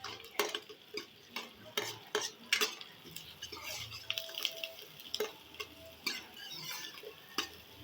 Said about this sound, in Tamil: நல்லா வதக்கி விட்டுக்கலாங்க. கருவேப்பிலையும் போட்டுக்கலாங்க.